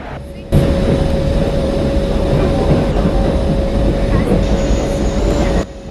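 A passenger express train in the Android game Indian Train Simulator, pulling away under gentle throttle: a loud, steady rail rumble with a sustained engine tone that runs unbroken for several seconds.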